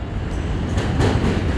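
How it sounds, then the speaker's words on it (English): A New York subway train arrives at the station, a loud, continuous rumble and rattle of wheels on rails with clattering bursts, close by and alone. "the train, the subway train is coming."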